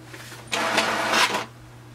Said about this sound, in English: Click on the blue icon on the top and just wait for the printer to print this.